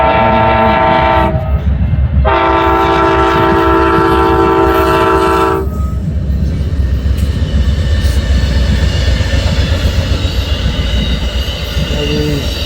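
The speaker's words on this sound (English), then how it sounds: "And here comes the eastbound California Zephyr." The eastbound Amtrak California Zephyr passenger train rolls past loudly outdoors, sounding its horn in two long blasts over the steady, close rumble of wheels on rail.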